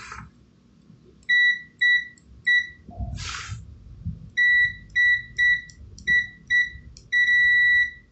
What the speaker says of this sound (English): Let's try out the continuity beeper.